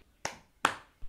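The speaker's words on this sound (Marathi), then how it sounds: "मग त्यांनी मुलांचं लक्ष वेधून घेण्यासाठी 2 टाळ्या वाजवल्या" Two sharp hand claps from a school headmistress calling children to attention, evenly spaced and crisp in a quiet room, followed by a faint soft thump.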